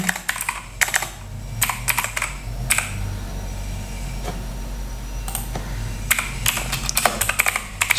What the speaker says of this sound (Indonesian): Coba ketik lagi Cassava icon